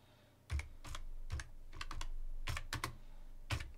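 Keys on a computer keyboard are tapped in short, separate bursts, about eight crisp clicks at an uneven pace, close and fairly quiet, with no talking over them.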